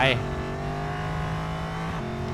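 Car engine in the Racing Master video game accelerating with a steady rising drone, loud and continuous, with a short burst at the start.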